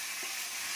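Shrimp fry in a pan with a dense, even sizzle that holds steady and close for under a second, with no voices.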